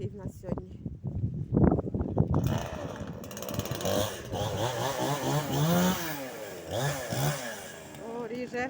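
A chainsaw revs and whines through firewood nearby, its pitch rising and falling in repeated cuts, with voices talking over it.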